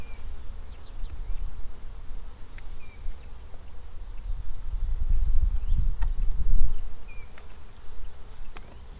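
Honeybees buzzing around an open hive with developing queen cells, a dense, close, continuous drone that swells and fades slightly, with occasional individual bees zipping past.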